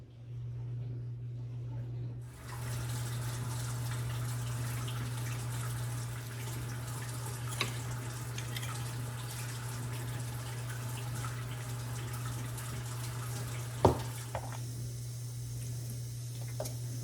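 Warm water runs steadily from a kitchen tap while a sourdough starter is prepared, a continuous rushing stream that begins abruptly and carries on throughout, with a couple of small clinks and a low hum beneath.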